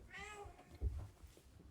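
A pet cat meows close by, first a clear pitched call and then a shorter, softer follow-up, while no one speaks over it.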